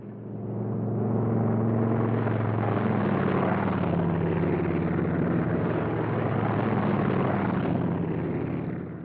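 World War II P-47 Thunderbolt fighter-bombers take off at an Italian airfield, a loud, steady droning engine roar that swells and holds for several seconds without voices.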